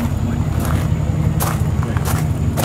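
A steady, deep exhaust rumble from a 1996 Chevrolet Impala SS drones continuously, low and close, with a few brief higher-pitched bursts on top.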